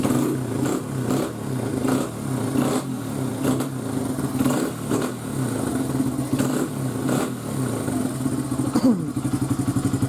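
2002 Honda XR100 dirt bike engine idling steadily after a top end rebuild, a close, even mechanical putter with a slight blip of revving near the end and no talking.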